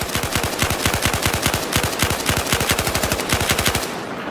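A light machine gun in Battlefield 4 fires a long, unbroken automatic burst into a wall, with rapid, evenly spaced loud shots over about four seconds.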